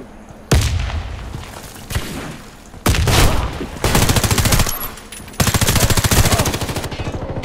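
Automatic weapon fire in the shooter game Warface: several loud, close bursts of rapid shots crackle one after another, each volley sharp and sustained over a low rumbling backdrop.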